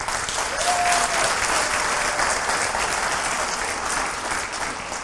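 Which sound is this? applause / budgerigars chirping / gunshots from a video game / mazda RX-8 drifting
applause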